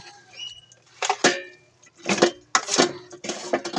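Batter for anchovy fritters, with half a kilo of flour, is stirred in a bowl, making repeated loud scraping and clattering strokes in uneven bursts.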